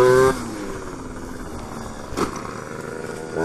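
A moped engine during a wheelie, with a steady droning engine note and a brief surge in the middle, heard close and alone.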